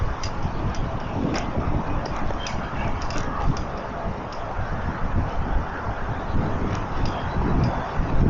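Strong wind buffets the microphone of a cyclist riding along a greenway path, producing a loud, continuous low rumble with a few faint ticks scattered through it.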